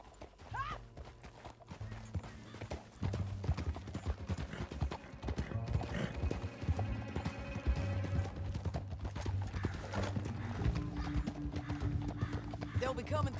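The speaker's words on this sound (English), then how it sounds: "Back on your horse. Let's get after them." Horse galloping in the open-world western game Red Dead Redemption 2, a steady rapid clip-clop of hooves throughout with an occasional whinny, mixed under game music and bursts of character dialogue.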